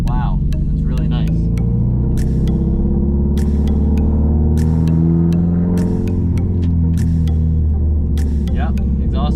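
Car fitted with a Tomei Expreme Ti titanium exhaust, recently repaired of an exhaust leak, droning steadily with a deep, loud, humming engine note and scattered light clicks for several seconds.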